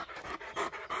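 An old dog with hip troubles pants close by in quick, rhythmic breathy bursts, about four of them in a second, with no talking.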